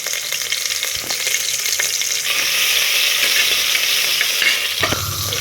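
Cinnamon stick and cloves sizzle in hot oil in a pan for mutton biryani, a steady close crackle and hiss with occasional stirring scrapes and clinks, no voices.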